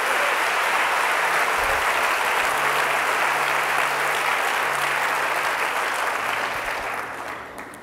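A church congregation applauding during a Sunday service, a loud, dense roar of clapping that holds steady for several seconds, with faint low hum underneath, before easing off at the end.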